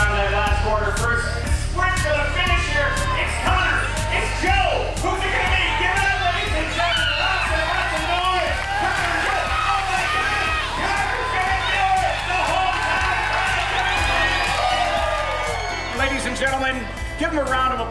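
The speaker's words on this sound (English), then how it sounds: "Give him a round of applause." A crowd at the Lodi Cycle Fest bike race cheers, whoops and yells continuously beneath a loud announcer's voice as riders come around the final stretch.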